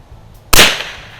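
A single sharp crack from a 1932 Winchester Model 61 pump-action .22 rifle, loud and close, with a short fading tail and no voices.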